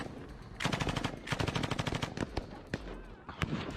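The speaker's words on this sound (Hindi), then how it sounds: "जहां पर आईएसआईएस की एक गाड़ी पर सरेआम गोलियों की कैसे बौछार की गई" Iraqi forces in Mosul pour rapid automatic gunfire at an ISIS vehicle, with dense loud bursts of rounds followed by scattered single shots, close and sharp.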